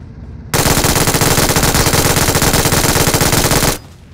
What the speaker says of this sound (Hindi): एंड उसके बाद जितनी गोलियां थी मैंने उतार दी